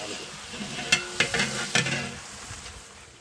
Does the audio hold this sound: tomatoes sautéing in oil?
yes